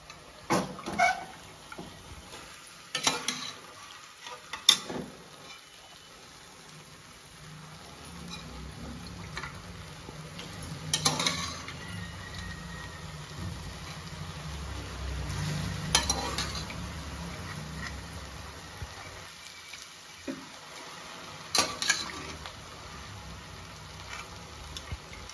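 Mutton sautéing in masala, a quiet, steady sizzle with occasional clinks of a spoon against the pot, alone with no talk.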